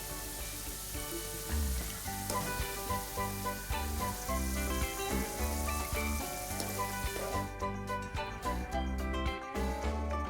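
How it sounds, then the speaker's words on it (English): Bite-sized potato pieces frying in oil give a steady, hissing sizzle that runs throughout, partly masked by background music. "Fry this lightly for 3 to 4 minutes"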